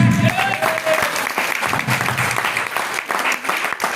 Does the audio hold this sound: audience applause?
yes